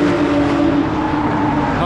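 Race cars roar past on a circuit during a loud car convoy event, a continuous, dense engine howl with sustained tonal whine that stays loud throughout the short stretch.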